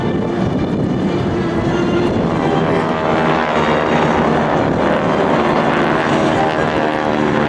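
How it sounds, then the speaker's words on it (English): GEICO Skytypers, a flight of four propeller airplanes, roll in for a very high angle strafe at the 2012 Joint Services Open House airshow, making a loud, sustained engine drone that holds steady throughout. "Skytype Flight of 4 will roll in for a very high angle strafe."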